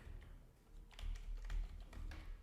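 Typing on a computer keyboard while searching a settings page, a quick run of soft close key clicks over a low background hum.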